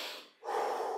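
A sharp, close nasal inhale during a home cardio workout, a brief hissing sniff that dips into a pause and then turns into a longer, louder breath drawn through the nose, heard alone.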